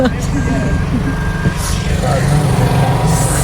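A vehicle crossing on a snowy mountain road near Babusar Top, its reversing alarm beeping steadily over a rumbling truck engine, with people talking throughout.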